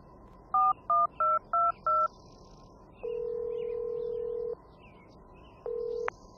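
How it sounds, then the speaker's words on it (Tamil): Telephone keypad tones ring out as five quick DTMF beeps are dialed in succession, then a long steady ringback tone follows, a pause, and a shorter second ring, clear and close with no talking. "இப்போ ஒருத்தர் நான் ஃபோன் பண்ணி தருவேன்."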